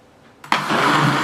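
An electric blender switches on abruptly to mix warm water and yeast for pancake batter, jumping from quiet to a loud, steady whirring motor hum that continues to the end.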